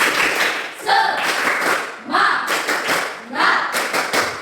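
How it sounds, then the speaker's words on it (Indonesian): Classroom of students clapping together in a rhythmic encouragement cheer, bursts of patterned claps and thumps repeating in short groups, close and loud, with voices mixed in. "Tepuk semangat untuk si Calvinus"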